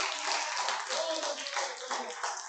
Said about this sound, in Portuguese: Pode aplaudir o nome dele.